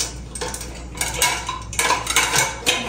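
A plate and cutlery are handled in a home kitchen while shredded chicken is being prepared, giving a few close, bright clinks and scrapes in irregular bursts, with no talk.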